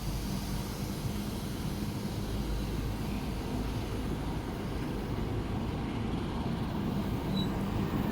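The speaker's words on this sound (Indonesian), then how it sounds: "Selamat memulai perjalanan baru kereta api Anggrek." The Anggrek passenger train on the Jakarta–Surabaya line runs steadily, a continuous low rumble and rolling hum of wheels on track heard from onboard, with no talk.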